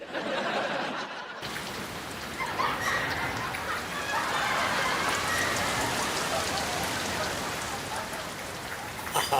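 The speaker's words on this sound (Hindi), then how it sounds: "मजा लूट रहे हैं बरसात का है।" Heavy monsoon rain pours steadily in a dense, continuous hiss and patter on surfaces, close and loud for the whole stretch, with faint chuckling mixed underneath.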